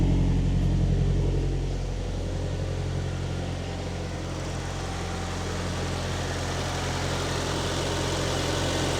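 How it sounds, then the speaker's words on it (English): A 1994 Nissan Silvia S14 with its SR20DET turbo engine idles steadily, a deep, rumbling low-end drone through a large HKS Super Dragger exhaust, close and continuous with no talk. "And here's how it sounds from the engine"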